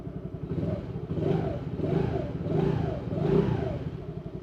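A 2024 Yamaha Raptor 110 fuel-injected ATV engine idles as it warms up, a steady mid-pitched putter with gentle rhythmic swells in revs, close by and moderate in level, no voices.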